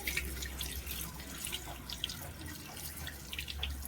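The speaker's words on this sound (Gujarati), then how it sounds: "આવી રીતે માટી બધી ડ્રેન આઉટ કરી લઈશું આપણે. સારી રીતે એને ધોઈ લેવાની." Tap water runs steadily over greens as soil is rinsed off, a continuous close splashing hiss with small drips and gurgles throughout.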